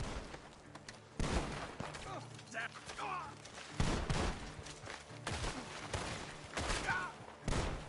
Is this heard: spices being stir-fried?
no